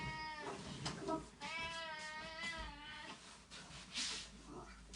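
A large adopted house cat meows repeatedly in drawn-out, rising and falling calls, fairly close, with a person talking over parts of it against a steady background hiss.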